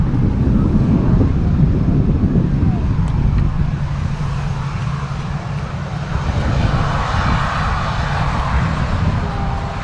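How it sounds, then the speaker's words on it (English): Aircraft, a BA jet and a TUI 737, taxi at Manchester Airport as a loud, steady engine roar with wind buffeting the microphone, easing slightly midway before swelling again. "We have got a BA and a TUI 73 on the taxi out with what looks to be an EasyJet on approach."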